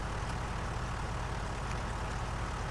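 A tractor engine in Farming Simulator 19 drones at a low, steady idle, faint and unbroken with no voices over it.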